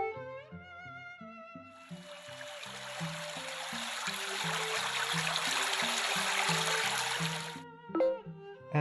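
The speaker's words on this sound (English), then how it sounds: "Babbling Brook." A babbling brook sleep sound plays from a phone's voice assistant, a soft continuous rush of flowing water lasting several seconds between quiet musical chimes.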